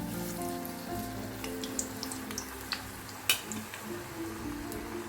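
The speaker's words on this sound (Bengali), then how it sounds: "এখন আমি আস্তে আস্তে ভেজে তুলবো অলরেডি তেল আমার অনেক গরম হয়েছে" Puli pitha dumplings fry in very hot oil with a constant crackling sizzle and scattered louder pops and spits, close and alone with no voices.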